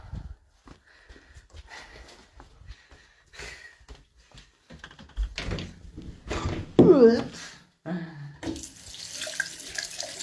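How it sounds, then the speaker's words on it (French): Cold tap water runs at a home sink over a hand, intermittent splashing and faucet flow with a louder gush, while a person speaks nearby. "Je mets juste de l'eau froide sur ma main"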